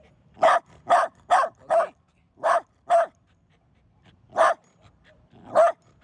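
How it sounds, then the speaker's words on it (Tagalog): A dog barks close by in short bursts: four quick barks, a pause, two more, then two spaced barks, with quiet between them. "Ingay nito ni Sakura, Sakura, may natutulog pa"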